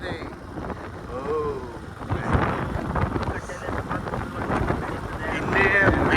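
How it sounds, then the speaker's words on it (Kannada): Wind gusts buffet the microphone outdoors at Kodibayi Katte near KRS during an off-road outing, a steady rushing roar that swells louder toward the end while people talk over it. "ಗಾಳಿ ಬರ್ತಾ ಇದೆ"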